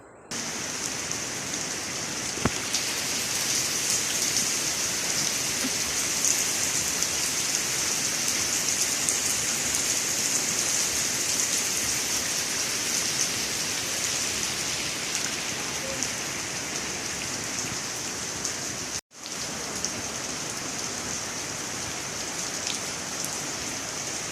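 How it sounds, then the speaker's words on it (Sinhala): Dense, steady roar of heavy rain pouring onto surfaces, loud and unbroken apart from a brief cut near the end. "දැන් නම් වැස්ස හොඳටම වැඩි. බලන්නකෝ වැස්සේ සද්දේ."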